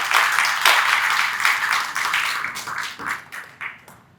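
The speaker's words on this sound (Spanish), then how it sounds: "Fuertes palmas, gracias." Audience at a forum on road infrastructure and transport applauds a panelist being invited forward, a dense burst of clapping that builds quickly, then thins into scattered, fading claps near the end.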